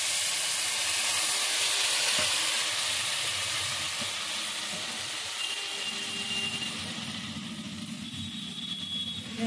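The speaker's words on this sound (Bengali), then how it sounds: "তেঁতুল জলটা দিয়ে দিচ্ছি" Tamarind water goes into a sizzling fish curry with potato and eggplant, a loud, dense steaming hiss that persists throughout and eases slightly toward the end.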